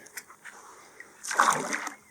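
Water splashes and sloshes as a person wades into a lake or shallow water on a sunny day while metal detecting, a quiet stretch giving way to a louder burst of splashing near the end.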